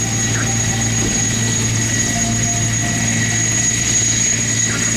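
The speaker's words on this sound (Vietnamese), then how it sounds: "Các chiếc trực thăng đang nối tiếp nhau khởi động động cơ." A loud, continuous drone of military helicopters starting their turbine engines one after another at an air show, steady whining tones and a low rumble, constant throughout with no voices.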